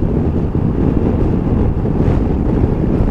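Strong wind roaring steadily over the microphone while riding a 2021 Piaggio Beverly 400 S scooter on the Autobahn, a dense, constant low buffeting that fills the whole clip with no talk.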